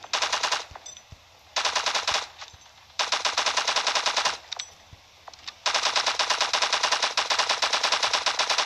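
Rapid automatic gunfire bursts in a shooting minigame from the LifeAfter video game, several loud rattling volleys separated by short pauses.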